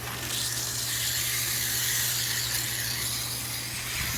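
A hand sprayer misting water onto seed cell trays of okra starts, a continuous close, fairly loud hiss of fine spray that runs unbroken over a low hum, with no talking.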